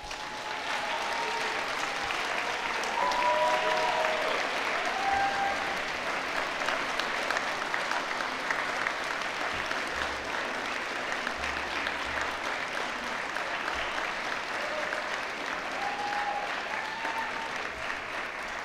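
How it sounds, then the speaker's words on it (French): Sustained audience applause at a 2021 university graduation ceremony for a faculty of education, steady and full for the whole stretch with no voices over it. "je vous invite à les applaudir chaleureusement."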